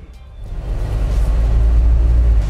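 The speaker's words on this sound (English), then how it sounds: "Let's go ahead and put it in gear and take it for a ride" A turbocharged Jeep Wrangler Rubicon Unlimited pulls away from a stop, its engine rumbling low and steady and swelling slightly louder as it gets moving, with no talking over it.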